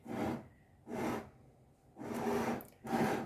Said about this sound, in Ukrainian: А тепер закриваю кришкою. Звичайною кришкою.